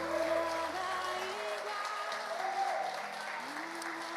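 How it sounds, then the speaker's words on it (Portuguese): Church congregation applauding during a worship service, a soft steady wash of clapping heard at a distance, with sustained musical tones and a voice running underneath. "Aplauda o Espírito Santo de Deus."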